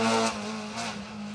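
An MG ZR rally car races along an asphalt rally stage, its engine revving hard in a couple of quick surges with a faint tire squeal, loud and close for a brief moment.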